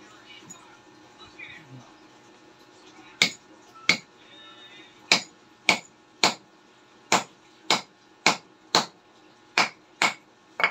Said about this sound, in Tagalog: Pupukpukin lang natin ng kahoy